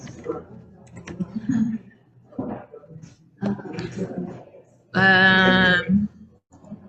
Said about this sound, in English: I'm gonna type that one in so she can see it.